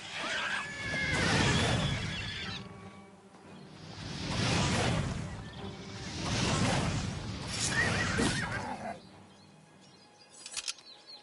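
A horse in the video game Oblivion whinnies and neighs in several long swelling cries, moderately loud, amid game sounds.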